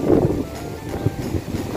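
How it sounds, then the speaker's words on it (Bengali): Gusty, strong wind roars across the microphone as a Kalbaishakhi storm builds, a rough low rumble that swells and dips without any talking. "প্রচন্ড হাওয়া শুরু হয়েছে"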